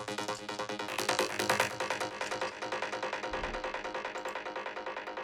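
A synth pluck sounds with its gritty second wavetable layer removed, a steady stream of rapid, evenly spaced notes with a brief low thump near the middle, clear and alone.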